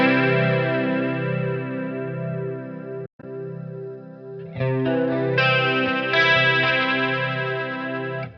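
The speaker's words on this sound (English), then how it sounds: "I'm kind of just dealing with this as the 70s chorus" Electric guitar through a 70s-style chorus on a Line 6 Helix, sustained chords shimmering and wavering with a steady swirl, loud and close, one brief dropout midway before brighter strummed chords.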